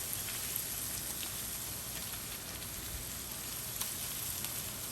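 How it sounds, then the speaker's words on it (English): Lobster pan-frying gently in oil at low heat, a soft steady sizzle and crackle with faint scattered pops, quiet and continuous with no talking. "we are frying, but like a low temperature frying, not deep frying. Like a pan fire frying"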